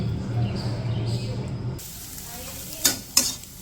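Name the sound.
eggs frying in oil in a wok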